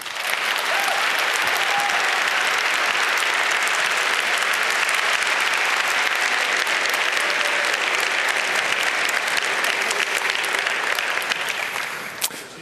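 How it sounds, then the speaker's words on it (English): Loud, sustained applause from a large conference audience greeting the Tor project developer's keynote, a dense steady wash of clapping lasting about twelve seconds before tapering at the end. "A loud applause"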